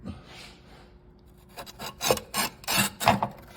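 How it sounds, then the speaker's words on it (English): A small tile-cutter roller scores porcelain subway tile with light pressure, making a close, dry rasping scrape that starts faint and turns into several short, rhythmic strokes over the last two seconds. "this little roller here is what actually scores the porcelain"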